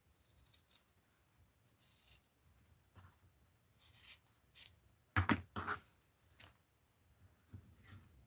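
Fabric scraps being cut with scissors: quiet, close, sparse snips and rustles, with a few sharper cuts near the middle and no talking.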